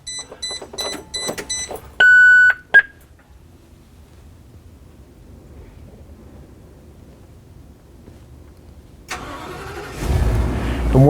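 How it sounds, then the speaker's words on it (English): A school bus engine turns over and catches after a few electronic dash beeps, then settles into a low steady idle, with a louder rush of air or engine building up near the end. "What we need to do is turn our bus on"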